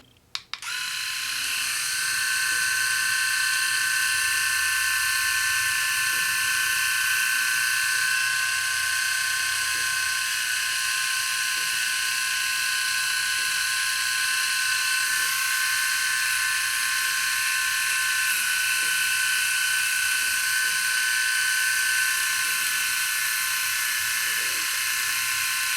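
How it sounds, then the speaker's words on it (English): An electric rotary shaver's trimmer, a Sejoy S3 BlackStone 3, running continuously with a steady high-pitched buzz while shaping the bottom of a beard, close and constant throughout. "I want to test out also the trimmer here. So let me give this a go as well and see if I can actually shape the bottom of my beard with it"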